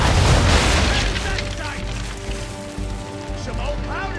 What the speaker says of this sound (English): Fire broadside!